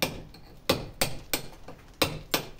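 Hammer blows on a steel pointer chisel working stone during masonry restoration, seven sharp metallic strikes in an uneven rhythm, close and fairly loud with no voices.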